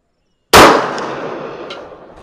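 A single sharp pistol shot at a 200 m outdoor shooting challenge, loud and close, with a decaying echo trailing off over about two seconds.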